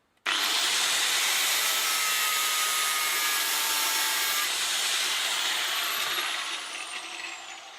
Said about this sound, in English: this chain doesn't have a quick link, so I get to play with my angle grinder.